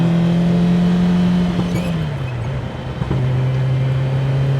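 A 1984 Lancia Rally 037 Stradale Evo engine droning loudly from inside the car while driving, holding a steady rev, then dropping as the driver eases off before settling at a lower pitch.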